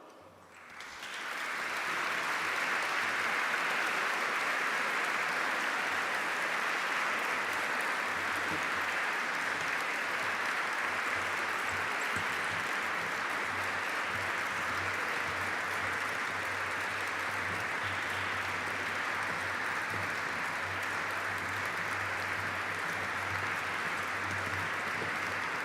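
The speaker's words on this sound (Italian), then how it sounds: "vi prego di accompagnare con un grande applauso" An audience greets a choir with sustained applause, a steady dense wash of clapping that holds evenly for about twenty-five seconds, heard from a distance at low level.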